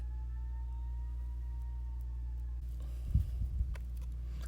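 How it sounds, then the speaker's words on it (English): A faint siren wails in the distance with a slowly falling tone over a low rumble, then fades as a few soft thumps follow. "Apologies, there was a siren for so very long."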